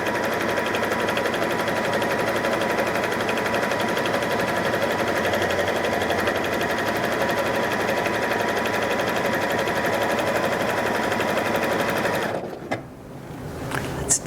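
A Janome 3160QDC sewing machine with an F foot sews a scallop stitch through fabric backed with stabilizer, a fast, even mechanical whirring that runs steadily before stopping abruptly near the end.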